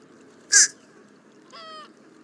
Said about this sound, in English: the fish crow has a different type of call